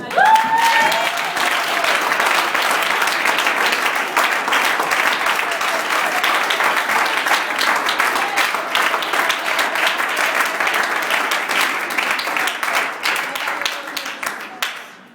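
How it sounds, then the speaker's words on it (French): A church congregation claps in loud, sustained applause for about fifteen seconds, dense and even throughout, with a few cheering voices at the start before it tapers off. "Nous allons élever la voix vers le Seigneur et que nous allons applaudir"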